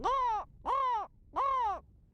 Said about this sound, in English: what sounds do crows make?